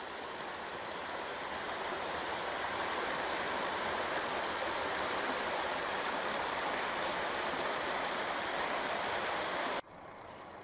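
Creek water flowing near a highbanker gold-prospecting setup at Pickerton, a steady broadband rushing hiss that holds constant, then drops suddenly to a quieter level at the end.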